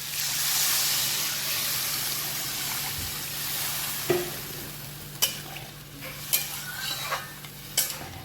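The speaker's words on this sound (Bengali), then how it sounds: "আলু মশলা দিয়ে কষানো হয়ে গেছে, এবারে জল দিয়ে দেবো।" Spiced potatoes sizzling in a pan for rui fish curry, with water poured in: a loud hissing surge that settles into steady bubbling, broken by several sharp clinks of a spoon against the pan.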